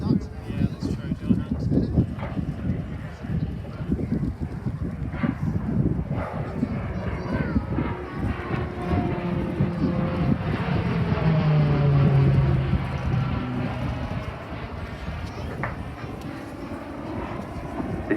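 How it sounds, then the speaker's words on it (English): Shorts Tucano with an uprated Garrett TPE turboprop engine rolling through a display at a seaside airshow, a steady droning roar that swells and fades as it passes, with an announcer talking over it throughout. "the uprated Garrett TPE turboprop engine fitted to the RF Tucano by Shorts in Belfast"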